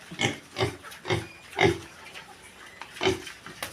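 Piglets feeding after being given food, with a series of repeated grunting, snorting bursts at an irregular rhythm, fairly close and moderately loud, with no talking.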